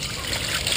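Water trickles and splashes steadily while a cat is rinsed during a bath, with a person talking over the continuous running water.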